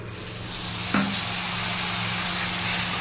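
Spice paste (masala) sizzling in hot oil in a home kitchen pan: a steady, close frying hiss with a brief sharper burst of spatter partway through, no voices.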